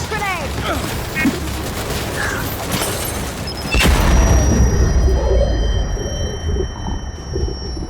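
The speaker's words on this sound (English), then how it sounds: "Incoming flash grenade!" In Gears of War 5, a flash grenade bursts with a sharp blast around the middle, followed by a sustained high ringing tone and low rumbling battle noise, with shouted voices mixed into the chaotic soundscape.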